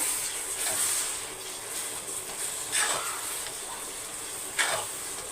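Prawn thokku with tomato frying in a pan, a soft continuous hiss and sizzle with occasional brief louder spatters, faint and close.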